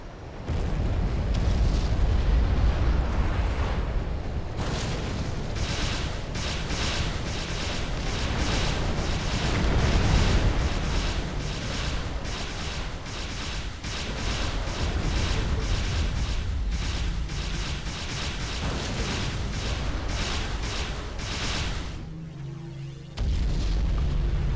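Artillery shells and explosions from a Supreme Commander real-time strategy battle, a dense, continuous barrage of booms and bursts rumbling loudly for nearly the whole stretch with no voices.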